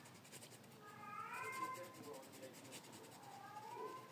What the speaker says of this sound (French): ça t'énerve aussi à toi hein, quand ça miaule